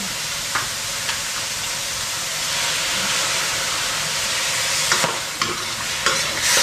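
Pancit noodles being stir-fried in a pan give a steady, loud sizzle and hiss throughout, with occasional scraping and clanks from stirring near the end.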